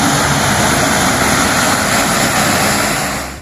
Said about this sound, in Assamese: অৱতৰণ কৰিছে বিশাল কাৰ্গো বিমান।